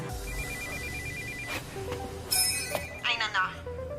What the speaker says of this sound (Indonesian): ia mendengar suara telepon